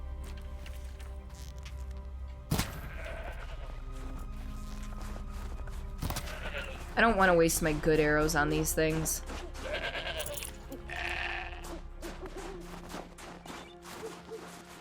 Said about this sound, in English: I hear a goat. There's a goat there.